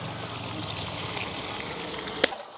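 Onions frying in boiling oil in a village kitchen, a steady close sizzle and bubbling hiss throughout, ending with a brief clink.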